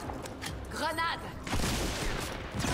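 A grenade goes off in the video game Fortnite: a sudden muffled boom with a rumbling tail, fairly faint, after a brief snatch of voice.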